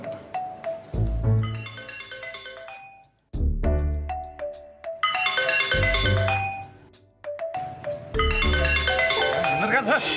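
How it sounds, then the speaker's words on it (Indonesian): A mobile phone ringtone plays a bright, chiming melody in several loud phrases with short pauses between them, close by. "Itu suara ringtone gua."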